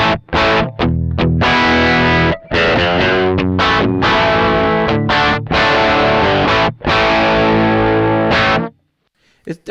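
An electric guitar runs through a King of Kings overdrive pedal with its delay not working, playing loud, dense distorted chords and notes in bursts with short gaps, then cutting to near silence at the end.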